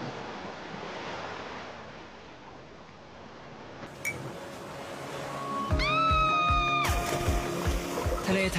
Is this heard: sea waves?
yes